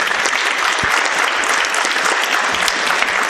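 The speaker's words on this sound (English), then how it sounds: "I would ask you to give yourself a round of applause" Audience at a community housing forum giving a round of applause, a steady, even wash of many hands clapping throughout, fairly near and without speech.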